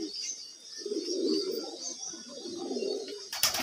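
Pigeons coo nearby in a low, soft rolling burble, two or three drawn-out phrases in quiet surroundings, with a brief sharper rustle at the end.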